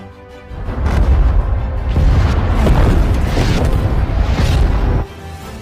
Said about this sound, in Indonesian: Tidak lama bom dijatuhkan dan berhasil mengenai musuh serta menghancurkan tank yang ada.